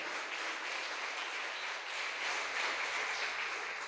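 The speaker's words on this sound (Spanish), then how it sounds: "Dele fuerte el aplauso al Señor, fuerte, fuerte, fuerte, porque es para Él." A church congregation applauds the Lord during a worship service, a steady, even wash of many hands clapping at moderate distance, sustained with no pauses and no voices on top.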